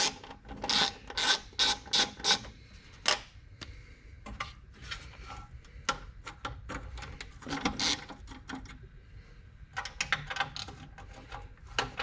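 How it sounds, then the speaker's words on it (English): Nuts are undone with a ratcheting tool on the dashboard of a 1966 Ford Galaxie 500 convertible under restoration, bursts of close rasping clicks in uneven runs with brief pauses. "which is just a matter of undoing these nuts"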